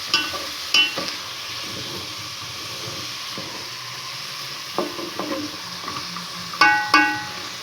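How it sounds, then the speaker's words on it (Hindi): A spoon scrapes and stirs through a mixed vegetable noodle soup in a pot over a high flame, steady hiss of cooking beneath a few sharp metallic clinks and scrapes, close by with no talking. "तेज़ आंच पे कर दी है मैंने अब इसकी, और साथ चम्मच फेर रही हूँ"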